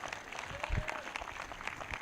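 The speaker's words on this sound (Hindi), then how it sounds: "वो ताली बजाकर धन्यवाद कर रहे हैं।" Congregation clapping in thanks during a Sunday church service, a steady patter of hands under the room's hum with a faint voice or tone running through it.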